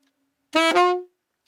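A short two-note saxophone phrase opening a theme, rich and reedy, played alone and close, lasting about half a second before stopping.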